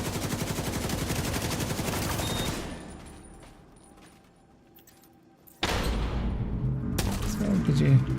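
Rapid bursts of gunfire from The Division video game, with dense automatic fire for the first few seconds, then a quieter lull, and heavy sustained shooting resuming toward the end, with speech mixed in.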